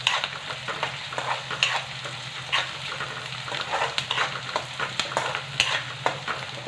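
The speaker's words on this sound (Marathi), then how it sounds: "कांदा आता आपण लाल रंगावरती मस्त असा छान परतून घेऊ." Chopped onion fries and sizzles in a pan for a home-style okra dish, with a steady hiss under repeated scraping stirs from a spoon, close and fairly loud, with no talking.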